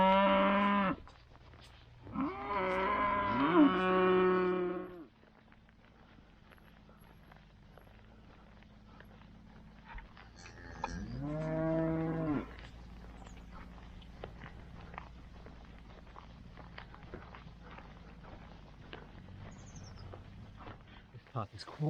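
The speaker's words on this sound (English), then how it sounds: "there are cattle on this part of the route going downhill" Cattle on a downhill stretch of a Welsh upland walking route low several times, two loud close moos early, then another after a pause, with quiet outdoor background and light footsteps between.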